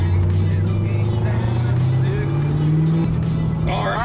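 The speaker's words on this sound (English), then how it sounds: "the black GT has the 10 speed, so he's gonna be just cruising" A black GT car with a 10-speed transmission cruises past with a steady, droning engine note that shifts slightly in pitch, loud and close, with road noise throughout.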